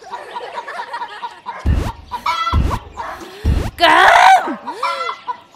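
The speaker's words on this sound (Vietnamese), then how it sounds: "Mẹ nghe tiếng gì không? Cục tác, cục tác." A large chicken clucks close by in a few short bursts, with people talking over and around the calls.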